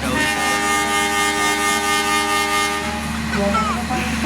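A passenger train hums steadily at close range at Purwosari station, with a sustained horn-like tonal drone and rumbling carriages, then a brief squeal near the end.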